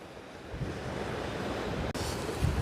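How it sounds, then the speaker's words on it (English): Steady ocean surf rolls against a beach shore as strong wind buffets the microphone, a constant roaring wash with no voices. "It's quite windy out here."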